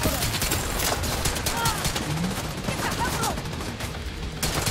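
Gunfire in The Division 2 during the Iron Horse raid, with dense overlapping bursts of shots crackling continuously beneath game noise and a talking voice.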